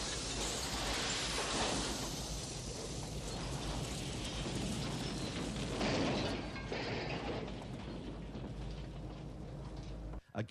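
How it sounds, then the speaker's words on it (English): Huge truck explosion and fireball from the 1985 film Invasion U.S.A., a loud sustained roar and rumble of burning blast debris lasting several seconds before cutting off. "High-speed cameras were used to shoot Pike's truck in slow motion as it was absorbed in a 150-foot fireball"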